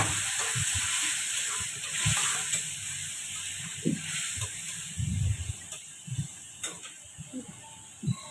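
Curry being tempered with hot oil and five-spice seeds, a low, steady frying sizzle with scattered pops and soft clinks of utensils, close and fairly quiet, with no one speaking.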